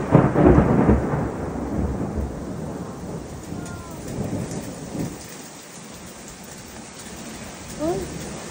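Heavy rain pours loudly in a thunderstorm, with deep thunder rumbles early on and hail in the downpour; the dense roar stays steady, eases slightly midway, and a voice speaks briefly.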